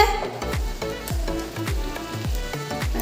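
Panch phoron whole spices and tempering hit hot oil in a frying pan beside a potol curry, crackling in a loud, steady sizzle with repeated sharp pops and spits throughout, no voices.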